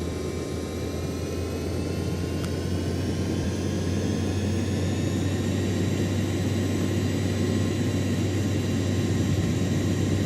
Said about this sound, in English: The engines are spinning fast. Turbines are working as expected.